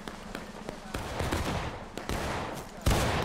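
Musket fire in the Civil War game War of Rights during a large 300-player battle: scattered sharp reports and crackling volleys at varying distances, with a louder close shot near the end, under background voices.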